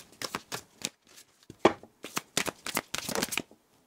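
A deck of oracle cards is shuffled by hand in short riffling bursts, close and crisp, with brief pauses between the rapid flutters.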